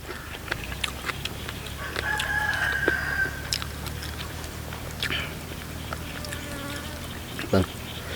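Birds call outdoors in a rural spot, among them a rooster crowing mid-way, over a steady insect buzz, with people talking nearby.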